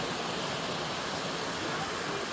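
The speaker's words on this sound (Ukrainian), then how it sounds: "Водоспадик такий тут," A small mountain waterfall and stream on a hiking trail up Mount Khomiak give a steady, full rushing wash of water, loud and unbroken from start to finish.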